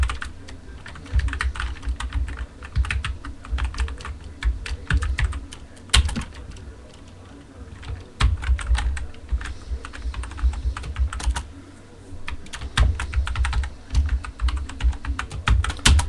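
Fingers typing on a computer keyboard while entering a password, rapid uneven clicking in bursts with short pauses, close and clear with no talking.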